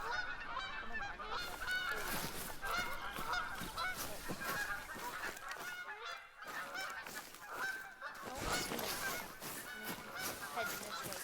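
Wild geese honk repeatedly in theHunter: Call of the Wild, Layton District, a dense chorus of overlapping calls that carries on steadily with a brief lull midway.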